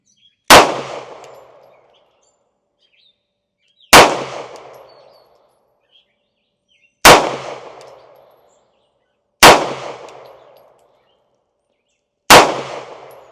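Five sharp, loud gunshots from a Sig Sauer P290RS compact pistol, evenly spaced about three seconds apart, each a crisp crack with a short decaying tail and no talking.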